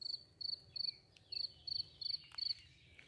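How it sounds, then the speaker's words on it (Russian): A cricket chirps from beside its burrow near a river, close and clear, in seven short regular bursts of rapid pulses over faint low background noise, with no one speaking. "Где-то здесь затаился сверчок."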